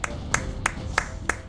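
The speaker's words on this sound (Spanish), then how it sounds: "Bravo, me aplaudo a mí mismo" A man claps for himself: five evenly spaced hand claps in a steady, quick rhythm, crisp and close, alone without talk.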